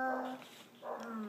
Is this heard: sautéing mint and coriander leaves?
no